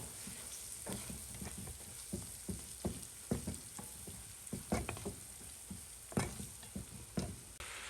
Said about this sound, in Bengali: অল্প একটু মরিচের গুঁড়া ভালোভাবে একটু নেড়ে ফেলে ভেজে নেব